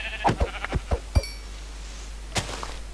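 Sheep in the Minecraft video game bleat in a quick run of four or five short calls, followed by another brief bleat after a pause, with no talking over them.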